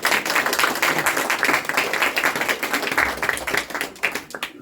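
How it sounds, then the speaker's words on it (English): Audience applause after reflections at a talk on the lives of Bharat Maharaj, dense overlapping claps sustained at steady moderate loudness for several seconds, thinning slightly toward the end. "we'll give a round of applause for all the reflections."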